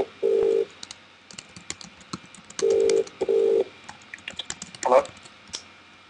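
Short ringback tones sound in a broken pattern as an office phone call connects through a CRM system, while computer keyboard keys clatter steadily as a note is typed.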